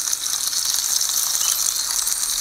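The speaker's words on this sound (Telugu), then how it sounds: "ఇప్పుడు ఇంకొక కడాయిలో 3 టేబుల్ స్పూన్ ఆయిల్ తీసుకుని అందులో చాప్ చేసిన 6 నుంచి 7 వెల్లుల్లి, 3 చాప్ చేసిన పచ్చిమిర్చి, 1 కట్ చేసుకున్న పెద్ద ఆనియన్ ముక్కలు" Chopped garlic, green chillies and a large sliced onion fry in three tablespoons of oil in a kadai, making a continuous bright, hissing sizzle that stays even and close with no speech.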